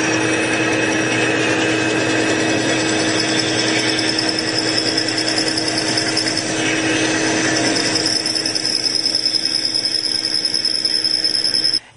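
A power saw, likely a bandsaw with its blade guide set about a quarter inch above a block of wood, cuts a carving blank for a peeking mouse, running loud and steady throughout before stopping abruptly at the end.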